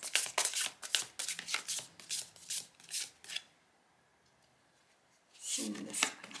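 Oracle cards riffled and shuffled in a rapid run of crisp papery flicks for about three seconds, a short pause, then another burst of handling as a card is drawn, close and fairly quiet.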